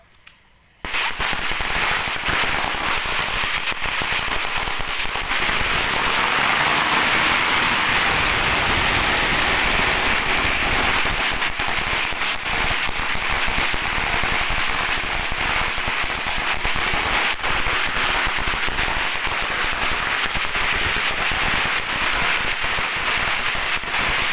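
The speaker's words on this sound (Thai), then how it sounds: "เด็กอยากได้ยินเสียงประทัดมากเลยทุกคน" Firecrackers set off nearby, filling the whole stretch with dense, continuous crackling and popping bursts that stay loud from start to finish after a brief quiet moment.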